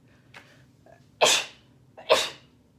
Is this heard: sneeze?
yes